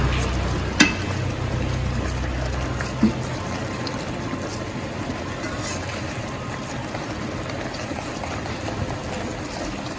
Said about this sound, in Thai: ผัดให้หอมเลยนะคะ ให้แตกมันเลยค่ะ